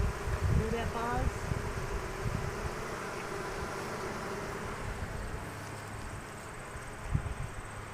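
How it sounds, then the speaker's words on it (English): Honeybees buzzing around an open hive during an inspection, a steady, low hum of many insects close by, with a few louder passes near the start and muffled handling noises throughout. "Hear that buzz?"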